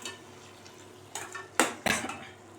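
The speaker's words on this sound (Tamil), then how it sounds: "மாங்காய் வேகும்போது நம்ம நடுவில் கொஞ்சம் கிளறி விட்டுக்கிட்டே இருக்கணும்" A spoon stirs mango pachadi in a pan, starting with a soft simmer and then giving several loud metallic scrapes and clanks against the pan, close by.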